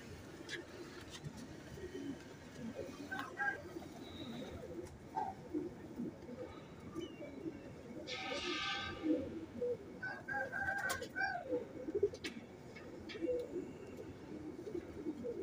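Soft Ferozpuri pigeon cooing against a steady outdoor background, with scattered chirps and a brief louder burst partway through.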